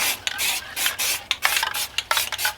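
A hand rubs paint into a plaster Bigfoot foot cast with repeated close, dry rasping strokes in an uneven back-and-forth rhythm, each scrub fairly loud against a quiet background.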